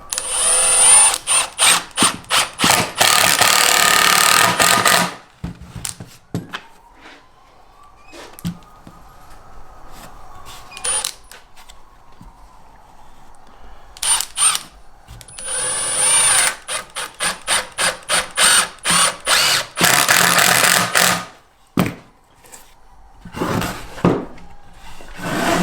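A power drill drives screws into wood while a cheap step stool is assembled, loud whirring bursts in several runs, a quieter stretch in the middle, then more rapid short bursts toward the end.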